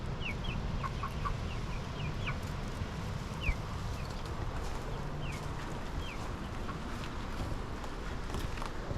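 Backyard chickens clucking inside a coop, a flock with newly introduced birds, giving scattered short clucks and chirps over a steady low rumble of background noise, moderately near but not loud.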